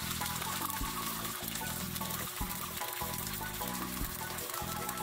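Pieces of pork hock fry in hot oil in a pan, a loud, steady crackling sizzle that fills the whole stretch without a break and with no voices over it.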